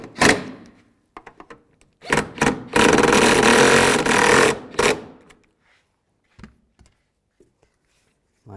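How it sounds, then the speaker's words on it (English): Taillight screws on a Nissan Murano are driven in with a power tool, with a sustained whirring burst of a couple of seconds between short clicks and handling taps, then quiet with faint knocks. "Now we're going to reinstall the screws and tighten those down."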